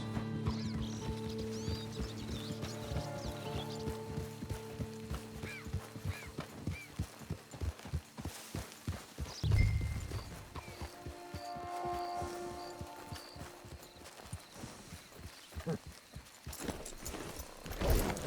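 Rhythmic clip-clop of horse hooves in Red Dead Online at a steady walking pace, continuing throughout over a soft tonal background, with a brief louder thump midway.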